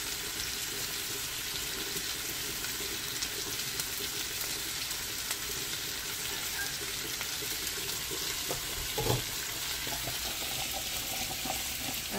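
Lamb chops grilling slowly over low heat, giving a steady, soft sizzle that runs unbroken throughout, with a brief clink near the end.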